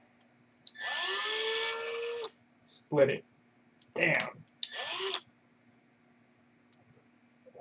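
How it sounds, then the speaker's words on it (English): A power drill being run again on a hot workpiece during a glue-and-build project: one long steady whine of about a second and a half, then a few shorter bursts, close by, with a man's brief exclamations between. "drill it again"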